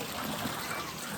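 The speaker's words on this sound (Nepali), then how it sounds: "ए यसरी पानी आउँदो रहेछ बगेर है" Water from an old hand-turned pump in a Portuguese village runs in a brief, steady, soft trickle, close by, with no voices.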